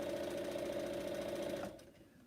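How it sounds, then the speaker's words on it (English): A sewing machine runs steadily over pins while piecing quilt blocks, a close, even mechanical whir with rapid needle pulses, then it stops and goes quiet. "So that's one of the reasons why I'm sewing and going over pins."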